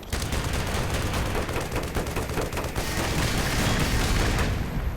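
Dense, continuous gunfire rattles at a turret in the video game Black Mesa: rapid shots run together into a loud, unbroken barrage that lasts several seconds.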